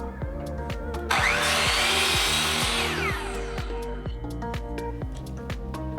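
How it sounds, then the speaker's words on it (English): A miter saw whines up and bites through wood for cabinet face frames with a loud rasping cut for a couple of seconds, over a steady machine drone with rhythmic clicks. "go over to the miter saw and cut those pieces"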